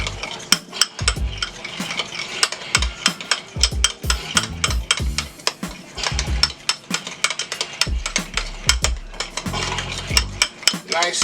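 A spoon stirs a small bowl of sauce with a teaspoon of Worcestershire mixed in for a steak sandwich, giving rapid, uneven clinks and scrapes against the dish, close and fairly loud, with no talking.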